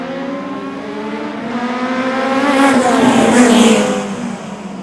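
Pro 4 modified race cars roar off together at the green flag of a short-track qualifying heat, engines revving hard and rising in pitch as the pack accelerates, loud and close, swelling to a peak before easing slightly.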